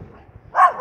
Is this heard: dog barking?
yes